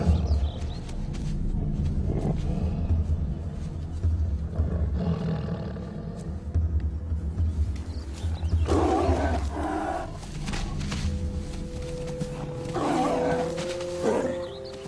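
Deep, rumbling Siberian tiger roars rise and fall repeatedly, loud and close, with low growling between them and no talking.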